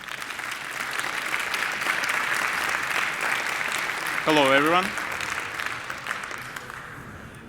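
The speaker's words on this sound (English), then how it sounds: "Please welcome, with a very warm applause, Boris." Warm applause from a large hacker conference crowd welcoming a speaker, sustained dense clapping throughout, with a short whistle-like tone midway and the speaker greeting the room near the end.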